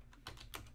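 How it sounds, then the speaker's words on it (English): Two quick keystrokes on a Color Computer keyboard, close but quiet. "So this is what we're going to type in right now."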